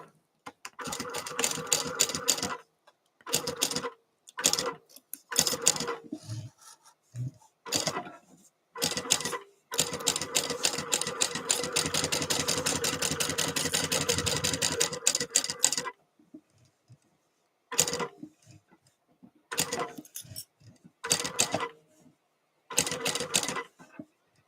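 A sewing machine stitches a fabric baby sling in short start-stop bursts, then runs steadily for about six seconds before returning to brief bursts, loud and close.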